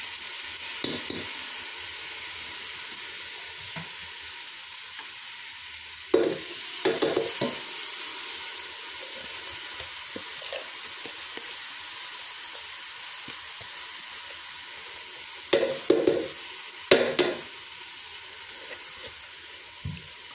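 Rice fries in hot oil inside a Ninja Foodi, giving a soft continuous sizzle with a few bursts of scraping as a utensil stirs the pot, all quiet and close with no voices.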